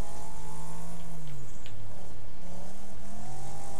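An Eagle R car engine in the racing game Wreckfest drones and shifts pitch steadily as it accelerates, loud and continuous with no talk.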